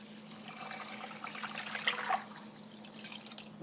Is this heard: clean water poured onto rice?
yes